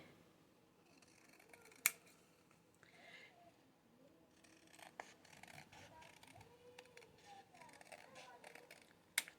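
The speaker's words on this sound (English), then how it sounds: "I'm going to trim. I'm trying to see if I can trim some of that darkness off" Scissors trim paper for a journal with quiet, close snips and scrapes, two sharp cuts standing out, under soft talking.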